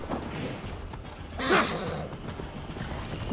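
Rhythmic hoofbeats of a galloping horse in the video game Assassin's Creed Valhalla, with a short whinny in the middle, close and moderately loud.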